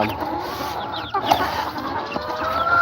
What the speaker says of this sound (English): the Rhode Island red chickens come and peck it up inside